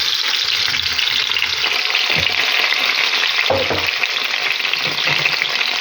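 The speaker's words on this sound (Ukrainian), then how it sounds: "Олія нагрілася і буду засипати сюди картоплю." Young potatoes fry in hot oil in a pan, a loud, close, steady sizzle holding from start to finish, broken by a few soft low knocks as the potatoes shift, with no voices.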